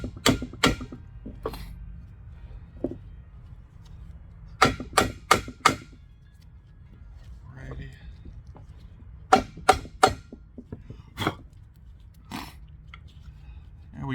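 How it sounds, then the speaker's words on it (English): A rubber mallet taps a Honda Element driveshaft part, sharp knocks arriving in short clusters of three to five with quieter single taps between, close and fairly loud over a low background hum. "I'm gonna use a rubber mallet."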